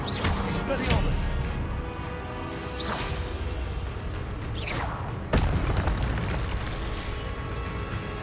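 Expelliarmus spell blasts in the video game Hogwarts Legacy, a few sharp booming bursts with whooshing tails over a steady game soundscape.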